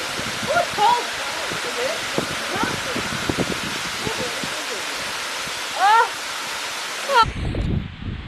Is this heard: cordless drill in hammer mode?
no